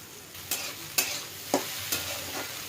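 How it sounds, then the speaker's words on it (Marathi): Chopped okra being stirred with turmeric in a hot pan: four distinct scraping stirs at a steady rhythm over a soft, continuous sizzle, close and clear with no talking. "हळद चांगली परतल्यानंतर यामध्ये चिरलेली भेंडी घालून व्यवस्थित मिक्स करून घेणार आहे."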